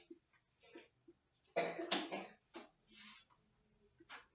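A person coughs several times in short, uneven bursts, one heavier fit in the middle and lighter throat-clearing coughs around it, close to the mic with quiet gaps between.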